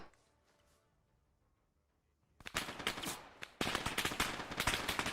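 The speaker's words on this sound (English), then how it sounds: "I fast travel and get shot at immediately" Rapid gunfire in the video game Arma 3 erupts after about two seconds of near quiet, a loud dense burst of automatic shots that briefly drops off and then resumes even harder, continuing to the end.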